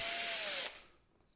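A small 1.5 mm drill bit whines as it bores into a 3D printed plastic part for a hovercraft, a steady high-pitched drilling that stops abruptly after about two thirds of a second, leaving a faint fading tail.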